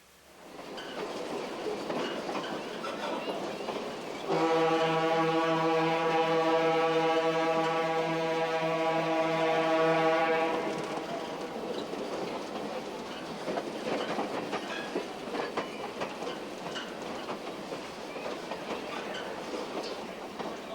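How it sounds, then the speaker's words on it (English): A Union Pacific DDA-40X dual-engined diesel locomotive train rumbles steadily in the distance, while a long, loud, tonal horn blast sounds for several seconds before the train noise continues alone. "the impressive dual-engined DDA-40X diesel locomotives once operated by the Union Pacific, seen here in the background"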